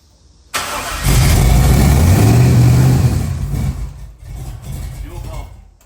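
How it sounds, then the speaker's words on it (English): A car engine on a project car cranks and catches, then revs up with a rising whine before settling back and revving again, loud and close. "we're firing up the car for the second time"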